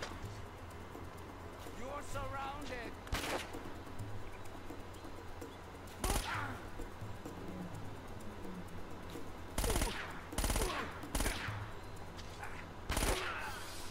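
Gunfire in the video game Uncharted: Drake's Fortune comes as several sharp broadband bursts, some in quick rapid clusters, over a bed of in-game ambience with birds cooing, while someone talks through much of it.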